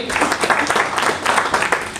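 An audience at a one-day leadership training programme bursts into loud, sustained applause, a dense patter of many hands clapping, with voices mixed in underneath.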